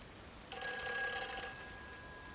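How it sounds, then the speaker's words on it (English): Telephone in the video game Everybody's Gone to the Rapture giving a single bright, bell-like ring lasting about a second that fades out in a quiet space. "Oh, another phone."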